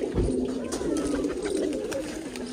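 Pigeons cooing close by in low, rolling murmurs in Pakistan, with faint background voices and clatter.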